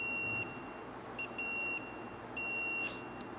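A continuity tester on a soldered electrical wire beeps in three steady tones of differing length, clear and close with no talk.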